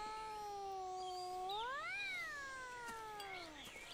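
A cat gives one long, drawn-out meow that rises and falls in pitch, close and clear with no voices.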